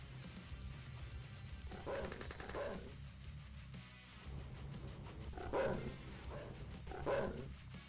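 Attack dogs bark in the Mental Omega real-time strategy game, several short bursts of barking spaced a few seconds apart over a low battle rumble, fairly faint.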